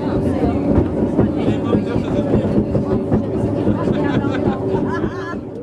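A small rack railway train on La Rhune travels at 8 km/h, giving a steady, close rumble and clatter with squealing metallic tones that run throughout.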